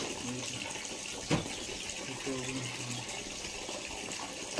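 Water runs steadily from a tap as a continuous hiss, with a couple of brief knocks and faint voices in the background.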